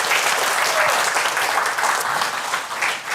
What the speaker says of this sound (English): please give yourself some warm applause